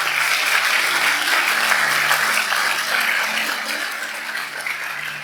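Church congregation clapping harder, a loud thick roar of applause from many hands that holds steady, then eases off slightly toward the end.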